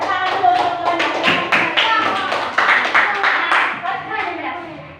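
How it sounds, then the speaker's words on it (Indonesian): Students in a classroom clap for their classmates, a brisk run of hand claps close by, mixed with children's voices talking over it. "tepuk tangan dulu untuk teman-teman"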